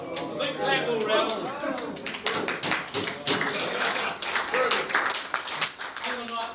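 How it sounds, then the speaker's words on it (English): Applause fills a Rotary Club meeting room in Wellington: many hands clapping in a dense, uneven patter that keeps going throughout, with people talking and reacting over the clapping. "A big clap all round."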